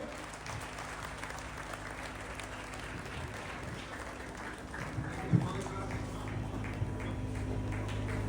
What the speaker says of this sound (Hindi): आप सभी तालियां बजाकर विधायक जी का स्वागत करो